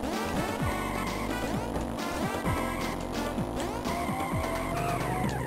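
Karts drifting with tire squeal on the Mario Circuit 2 track in Mario Kart Super Circuit, skidding racing-game noise layered over steady, loud game music and engine drone, with no one talking.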